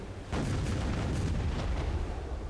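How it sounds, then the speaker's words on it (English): Ship cannons firing in the video game Black Desert: a deep booming blast followed by a rolling rumble and a few more muffled thuds, fairly faint and distant. "Does it fire any cool cannons?"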